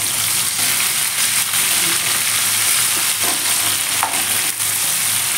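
Tomatoes frying in a pan, a steady broadband sizzle with a few faint stirring clicks, close and even throughout, no talking.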